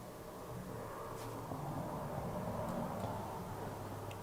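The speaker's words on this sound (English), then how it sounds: "The traffic is just really annoying." Road traffic near a cabin in the woods at night, a faint, distant rumble of a car passing that swells and fades slowly, with no talking.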